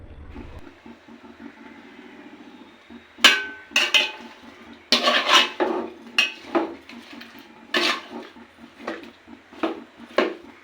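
Garlic paste being stirred into a curry of drumsticks, potatoes and dried fish in a metal pot, with repeated clanks and scrapes of a spoon against the pot over a low background hum.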